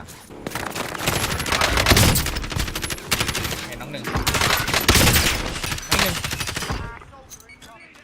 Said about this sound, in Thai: วันนี้ผมกลับมาเล่นวอลโซนกับปืนกิโล 141 นะครับ